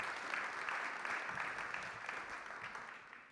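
Audience applause at a French conference presentation, a steady wash of clapping that holds for a few seconds and tapers slightly, fairly faint and distant, with no talk over it.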